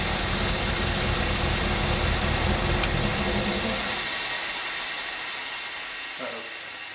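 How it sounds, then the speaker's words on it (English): A blown brake airline on a 1974 fire truck vents a loud, steady broadband hiss of escaping air, strong for about four seconds and then slowly fading over the last three, with no talk over it. "I just barely touched the brake pedal and I think I blew an airline"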